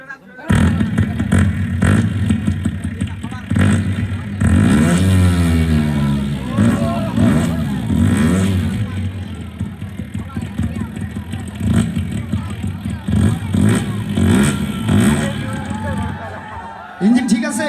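A CDI motorcycle engine runs and revs up and down in repeated swells, loud and close, with people talking over it and background chatter.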